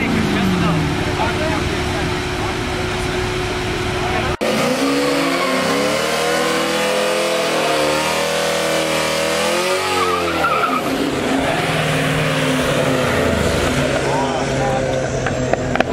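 Two street racers, a Camaro SS and an Audi S8, launch in a $2,000 street race, with loud engines revving and tires skidding and squealing up close throughout, plus a sharp click near the start; people talk in the background.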